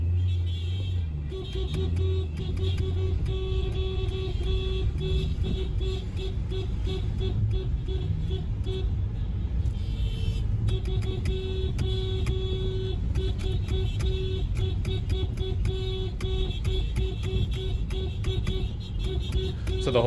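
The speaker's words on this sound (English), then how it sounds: "So the whole city's just been honking all day" Car horns honk repeatedly along busy city streets, a steady wash of beeps and traffic noise carrying on for the whole stretch with no talking.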